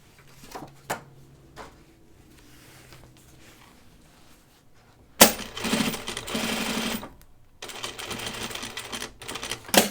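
A sewing machine stitches a backpack in one short mid-clip burst of rapid stitches, framed by quiet handling clicks and a few scattered knocks before and after.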